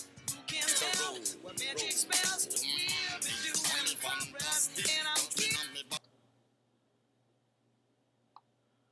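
Two songs mixed with mismatched beats in Adobe Audition play loud and busy for about six seconds, with dense clashing percussive hits and tones, then cut off abruptly to near silence with a single faint click afterward.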